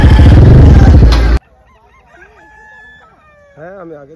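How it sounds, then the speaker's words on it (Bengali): Roosters at a village cockfight: a loud burst of crowd noise cuts off abruptly, leaving scattered quieter bird calls, then a rooster crows close by near the end. "রাস্তা দিয়ে যেতে যেতে দেখছি এখানে মুরগি লড়াই হচ্ছে, এত ভিড়"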